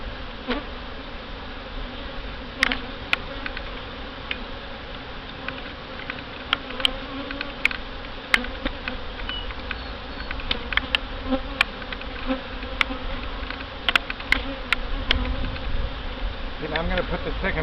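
Honey bees buzzing around an open hive during a mid-July health inspection, a steady close drone with frequent clicks and knocks of frames being handled throughout.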